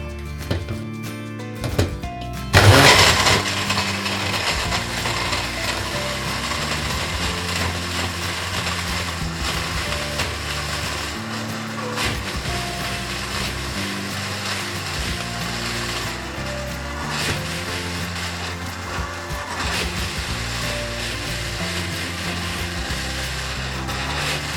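A mixer grinder whirs steadily while grinding onion, coconut and coriander into a Malvani masala paste, starting with a sharp jolt and then holding a loud, continuous motor hum.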